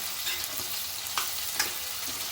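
Onion sautéing in a pan gives a steady, close sizzle with a few soft stirring taps over a brief stretch.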